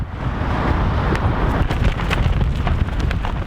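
Strong wind batters the microphone outdoors on a gusty day, a loud continuous low roar with surging buffets and no voices.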